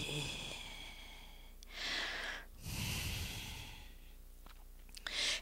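Slow, deep yoga breathing: a few long, soft breaths in and out, with gentle airy rushes and a brief snort-like exhale, close and quiet with no talking.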